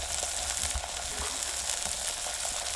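Spices hit hot oil while ivy gourd curry cooks, giving a steady, close, crackling sizzle with small pops throughout, no voices.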